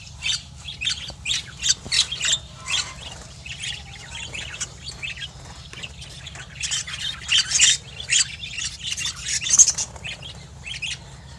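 A breeding colony of pet birds squawks and chirps in dense overlapping bursts, loud and close, with some rustling movement. A low steady hum runs underneath throughout.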